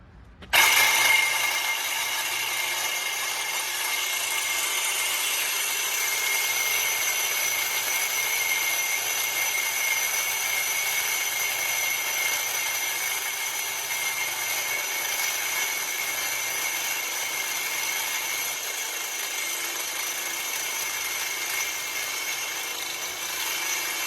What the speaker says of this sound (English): your hole saw is too old and it's not cutting the right way